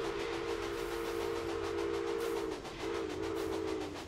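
A Union Pacific Tyson 10-wheeler steam locomotive in the Railway Empire game running at full steam around 40 mph, its whistle sounding a long steady tone, then a brief break and a second blast over continuous rolling rail noise.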